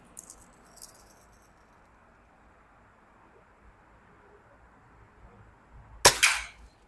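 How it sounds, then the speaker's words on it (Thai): A Daisy camouflage lever-action 4.5 mm BB rifle fires once at a target about five metres away, a single sharp crack near the end after a long quiet stretch with faint rattles early on. "มาดูความแม่นยำกันเลยระยะห้าเมตรนี่ผมแค่ยิงเล่นๆไปแล้วนะครับ"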